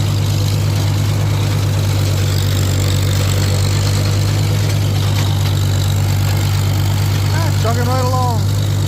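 A tractor engine chugging steadily in an orchard grass hay field, a loud, constant low drone close by with a faint voice briefly rising over it near the end.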